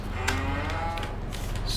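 Hungry cattle in Farming Simulator 22 let out a low, drawn-out moo, steady and fairly close, over a constant background hum.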